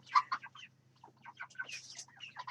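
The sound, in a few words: young chickens clucking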